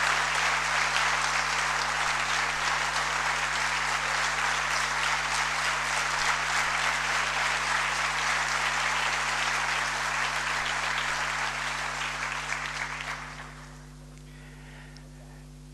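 Sustained audience applause for a Macedonian musician, dense and even clapping from a large crowd that holds for about thirteen seconds before dropping away to quiet room tone.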